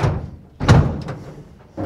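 A 1966 Chevrolet C10 pickup door shuts with a solid thunk close by, followed by a couple of lighter knocks and another dull thump toward the end.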